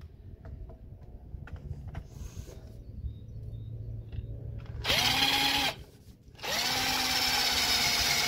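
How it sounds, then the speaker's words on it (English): A decent-size metal drill bit bores into the rounded-off head of a brake disc screw on a wheel hub, the power drill whining loudly in two sustained bursts after quieter clicks and handling sounds. "I'm going to go straight for drilling it out"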